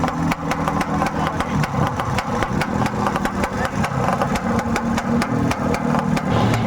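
A Yamaha RXZ 135 motorcycle engine idles steadily nearby, a constant loud rumble with rapid regular firing pulses throughout.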